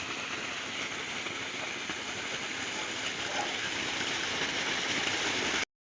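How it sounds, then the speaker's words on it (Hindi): Water from a running solar pump in a dry field gushes in a steady, fairly loud rushing flow that stays constant and then cuts off sharply. "तो ये हमने चला रखा है अपना सोलर पंप।"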